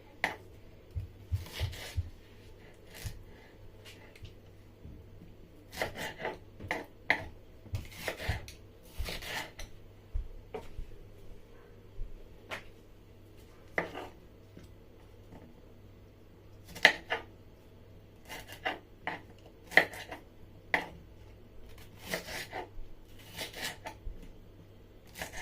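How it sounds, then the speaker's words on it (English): A knife slicing peppers into big pieces on a board, scattered soft cuts and scraping strokes in irregular clusters, close but quiet, with long pauses between bursts. "I just cut some of the pepper because I'm not going to be using everything."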